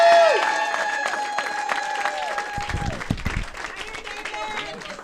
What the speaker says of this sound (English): let's have a resounding applause for Judge Joe Benavides